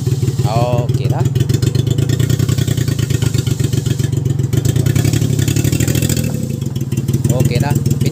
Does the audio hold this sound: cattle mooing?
no